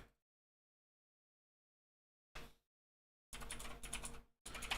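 Typing on a computer keyboard comes in short bursts of close, clattering keystrokes separated by silent gaps.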